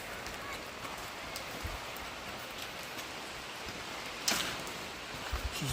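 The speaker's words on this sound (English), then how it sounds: "It's raining freaking ass hard." Steady rain hisses and patters continuously, with a brief sharper knock and a couple of low bumps near the end.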